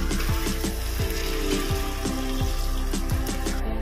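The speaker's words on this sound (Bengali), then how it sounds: "আমি এখানে উষ্ণ গরম জল দিয়ে দেব" Warm water pours steadily into a pan of cooked masala for a jackfruit kofta curry. A dense, constant splashing rush carries repeated gurgling glugs in a fairly regular rhythm, with no voices.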